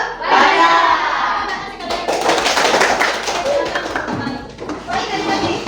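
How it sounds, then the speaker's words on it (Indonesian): Schoolchildren in a classroom do a rhythmic hand-clapping routine, a loud dense patter of many small hands clapping together, with children's voices chanting and calling along throughout. "Tepuk satu. Tepuk 5."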